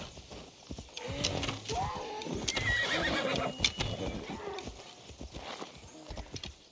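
A horse in the Assassin's Creed Odyssey video game neighs with several loud whinnies while its hooves clip-clop steadily, close and clear over faint game ambience.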